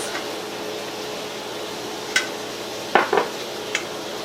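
Rutabaga, onion, celery and carrots go into a big soup pot for potato, turnip and rutabaga soup, giving a few brief, soft clatters and knocks over a steady background hiss.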